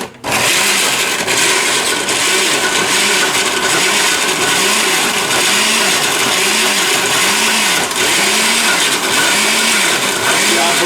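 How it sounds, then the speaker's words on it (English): A Ninja blender runs steadily for about eleven seconds, purees its contents with a loud, continuous motor whir and a regular pulsing churn, and no one talks over it. "to my trusty dusty blender Ninja and just mix it right up in here"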